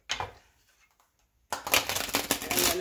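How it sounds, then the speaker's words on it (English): Tarot cards are shuffled in two bursts, a brief riffle, a pause, then a longer run of rapid papery flicking and tapping, close up with no talking. "I'm gonna shuffle."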